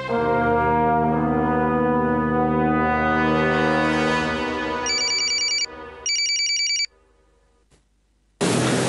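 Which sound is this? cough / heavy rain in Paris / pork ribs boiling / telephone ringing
telephone ringing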